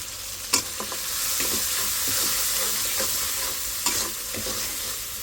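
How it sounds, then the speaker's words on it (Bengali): Leafy greens sizzling and being stirred in a pan on a lowered stove flame, a steady frying hiss with a few scraping stirs and clinks throughout, no talking. "চুলা কমাই দিয়েছি শাকটা ঠিকঠাক করি"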